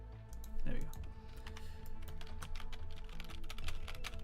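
Keys on a computer keyboard clack in a quick, uneven run of sharp taps, close and clear, while someone talks over the typing.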